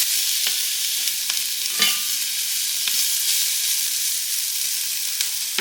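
Food frying steadily in a pan at home, a continuous broad sizzle with a few brief clicks and stirring knocks scattered throughout, fairly loud and close with no voices.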